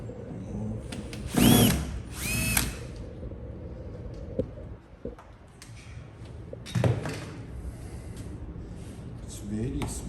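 A small screw is backed out of a Genesis Coupe door trim panel with a power driver, giving two short whirring bursts and a later third, interspersed with taps and clicks while someone talks.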